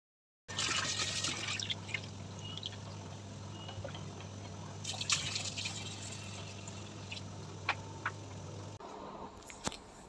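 Small ayala fish being washed for curry make a constant trickle and splash of water, close and fairly loud, with a few sharp clicks near the end.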